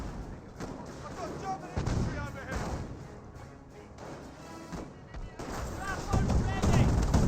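Gunfire and artillery in a Company of Heroes 1 match, with bursts of shots and heavy booms over a busy battle din while a commentator talks over it throughout.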